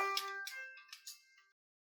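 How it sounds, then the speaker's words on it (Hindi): A phone ringtone chimes in a short bright melodic phrase of a few tones, faint and alone before cutting to silence. "फोन आ गया"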